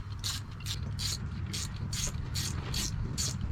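A ratchet wrench tightens down a cable bracket on a 1979 Chevy LUV, giving about nine crisp, evenly spaced clicking strokes, close and clear over a low background hum, with no talking.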